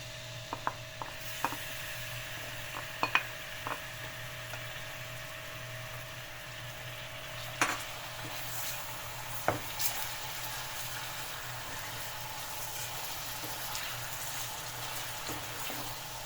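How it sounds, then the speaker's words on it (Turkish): A quiet, steady sizzle of chicken and onion frying in a pan, punctuated by occasional sharp clicks and scrapes of utensils. "Şimdi soğanla tavuğu birlikte kavuracağım."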